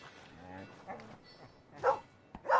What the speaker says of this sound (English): Blue tick coonhound.